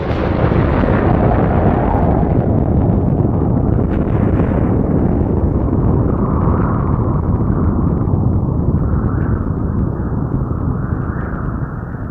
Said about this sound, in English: This is the Trinity explosion.